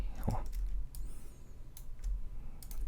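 Computer mouse clicking while drawing with the Photoshop pen tool, a few sharp, quiet clicks spaced irregularly over a soft background hum.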